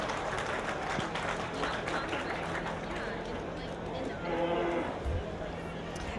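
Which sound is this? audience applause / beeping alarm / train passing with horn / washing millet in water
audience applause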